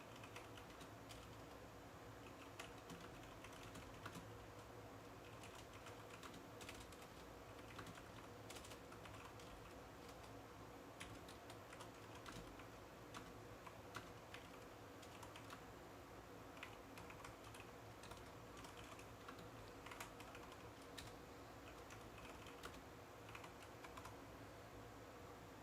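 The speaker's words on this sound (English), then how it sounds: "Let me go ahead and actually type this out." Steady typing on a computer keyboard, a continuous quiet patter of keystrokes lasting nearly half a minute with no talk.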